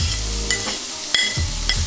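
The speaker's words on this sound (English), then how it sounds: "So that's frying away, and I'm going to add my shallots as well." A steady sizzle of garlic and shallots frying in hot oil, with a few sharp clinks of a utensil against the pan.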